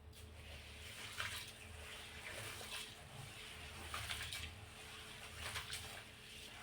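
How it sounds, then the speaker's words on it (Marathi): Yellow mung lentils are swished and rinsed in water in a vessel, soft sloshing pulses repeating every second or so, close and quiet with no talking. "यामध्ये पाणी टाकून आपण 3 ते 4 वेळा ह्या डाळी स्वच्छ अशा धुवून घेणार आहोत"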